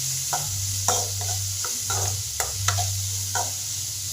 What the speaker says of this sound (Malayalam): അതിനകത്ത് ഈ സവോളയും ഇഞ്ചിയും വെളുത്തുള്ളി നന്നായിട്ട് വഴറ്റിയിട്ട്